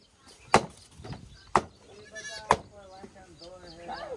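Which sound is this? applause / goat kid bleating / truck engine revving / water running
goat kid bleating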